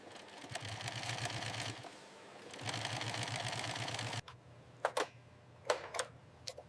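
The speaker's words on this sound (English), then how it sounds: "Stitching forms the base structure of leather products." An industrial sewing machine stitches leather goods in a large factory, running in two fast rattling bursts, then pausing while a few sharp clicks follow, fairly quiet and with no voices.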